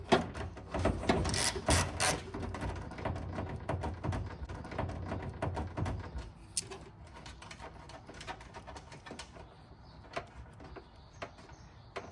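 A ratchet removes a bolt from a Tesla Model Y inner tail light, giving close rapid clicking and ticking bursts that grow sparser and quieter toward the end.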